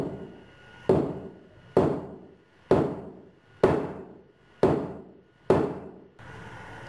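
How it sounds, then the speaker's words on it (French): Six sharp hammer blows struck at an even pace on the ground beside a seismic sensor, each a close, ringing knock that decays before the next, followed by quiet background. "mes coups de marteau étaient de plus en plus forts"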